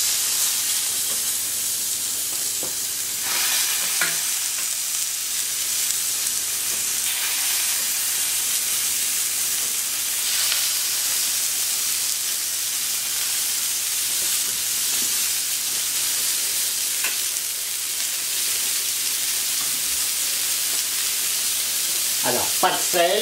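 Steady, loud sizzling of scallop and smoked bacon skewers frying on a hot plancha, a continuous hissing crackle with occasional faint clinks of utensils nearby.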